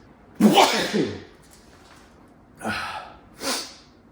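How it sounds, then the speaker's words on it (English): A single loud sneeze bursts out close by, followed by two quieter sniffs or breaths after a pause. "I'm gonna sneeze."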